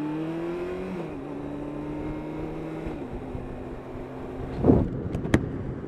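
A 2017 Kawasaki ZZR1400 sport motorcycle engine idles while stationary with a steady drone, then blips its throttle in short sharp revs near the end.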